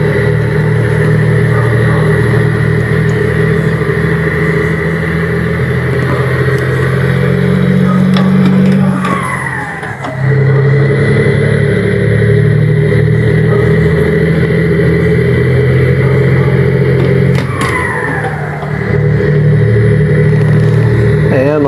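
A loaded 13-ton truck labours up a steep hill, its heavy engine droning loud and steady with strained low rumble, briefly dipping twice as it lugs under load; a voice talks over it at times.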